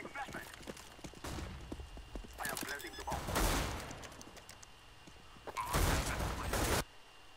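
Gunfire from the game CS:GO, heard as sharp bursts of rapid shots at moderate loudness with short gaps between volleys over quieter game noise, with no talking.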